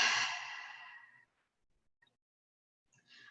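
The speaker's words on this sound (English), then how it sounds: "Exhale out through your mouth." A single long breath exhaled out through the mouth, a close breathy whoosh that fades over about a second into silence, followed by a faint short breath.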